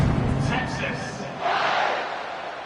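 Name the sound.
home crowd cheering at Alabama football game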